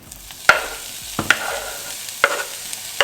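Chorizo, onions and peppers frying together in a pan, a soft steady sizzle broken by a few sharp scrapes and clicks of stirring.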